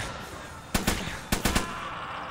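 AK rifle fire in the survival game Hold Your Own: two quick bursts of a few sharp cracks each, loud against a steady background hum.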